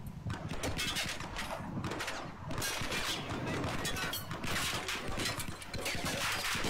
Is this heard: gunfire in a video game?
yes